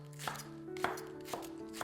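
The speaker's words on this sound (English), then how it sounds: "Let's cut some scallions." A knife chops scallions on a cutting board for Korean bulgogi, four distinct, evenly spaced thunks, fairly quiet and close, with a faint hum beneath.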